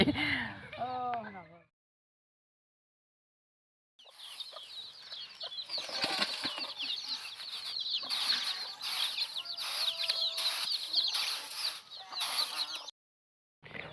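Chickens, hens with a rooster, scratching and feeding on drying mud near a traditional rice-pounding area, cluck and flutter steadily at close range for about nine seconds after a brief human voice and a pause.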